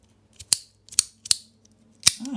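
Four sharp, crisp mechanical clicks from an engraved cupronickel haptic slider fidget toy with its plate reversed, close up and irregularly spaced, with a faint rustle at the end.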